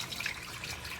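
Water trickles and splashes steadily from a small PVC pipe fountain in a backyard aquaponics setup, a continuous close bright babble with no pauses and no voices.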